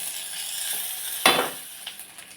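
Onion and drumstick leaves sauté in a pan for adai, a steady close sizzle with one sharper burst of frying or stirring partway through and a few small pops after.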